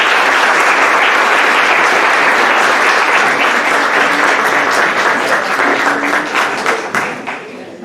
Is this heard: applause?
yes